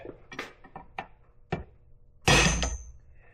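A drive shaft E-clip on a 2009 Polaris Ranger held in a vise and struck with a hammer: several close, sharp metallic taps, then a heavier, longer clattering hit near the end.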